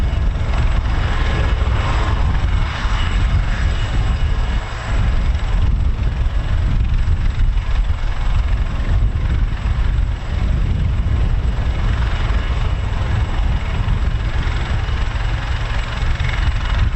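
An Army Air Corps Wildcat helicopter flies over the RAF Holbeach air weapons range, a steady, heavy low-pitched rotor and engine drone that stays loud and constant throughout.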